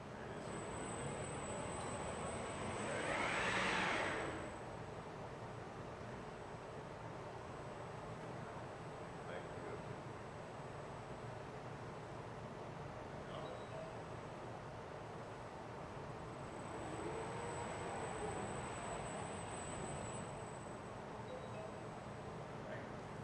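A Siemens Artis Pheno cone-beam CT scanner makes a test spin in a hybrid operating room, a steady whirring rotation with a faint high whine over room noise, swelling briefly twice.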